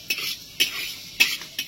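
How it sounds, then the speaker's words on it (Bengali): Papad dry roasted with spices in a pan, with a utensil scraping and knocking against the metal in four regular, spaced strokes over quiet background. "যতক্ষণ না পাঁপড়টা পুরোপুরি ভাজা হচ্ছে, মানে শুকনো ভাজছি, ততক্ষণ পর্যন্ত ভাজতে থাকবে"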